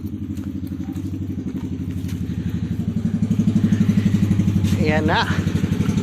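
A motorcycle engine idles steadily in the open, a fast regular low putter that grows slightly louder toward the end, with people talking briefly over it.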